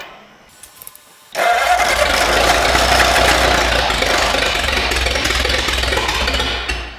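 A Ford Flathead V8 on a homemade engine run stand cranks briefly, then catches and roars into a loud, steady, rough-edged run that continues close up to the end.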